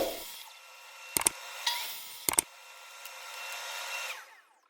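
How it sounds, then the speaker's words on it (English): A dust collection system runs with a steady whooshing roar while aluminum is cut, with a few sharp scraping bursts from the cutting over the constant hum before it winds down. "I'm going to turn on my dust collection so it sucks up some of the stuff"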